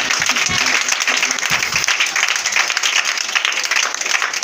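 A church congregation breaks into loud, sustained applause and clapping, a dense steady wash of hands throughout, with voices mixed into the crowd.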